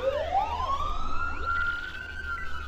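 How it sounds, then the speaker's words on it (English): Police siren sound effect from the video game Paper Mario: The Thousand-Year Door, a steady rising wail that climbs and holds loud throughout, with layered echoing tones and a low background hum. "That's the sound of the police."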